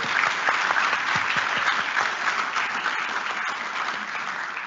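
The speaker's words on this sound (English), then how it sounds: "And once again, a big round of applause to Ms. Jenkins for that beautiful rendition" Sustained applause from a crowd fills the space, a dense, steady clatter of many hands clapping without a break.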